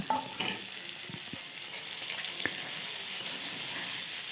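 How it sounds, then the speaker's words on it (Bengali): Capsicum pieces frying lightly in a pan for a soya chilli mutton curry give off a steady, moderate sizzle, with a few soft stirring scrapes near the start and a brief clink midway. "ক্যাপসিকামগুলো দিয়ে দিলাম অল্প একটু ভেজে এবার টমেটোটা দিয়ে দেব"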